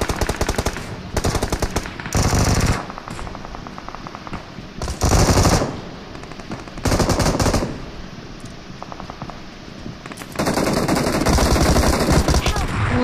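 Rapid automatic gunfire from a BGMI mobile battle royale match, loud bursts of machine-gun fire recurring in several volleys across the clip, with sustained crackling between bursts and a dense, close firefight feel.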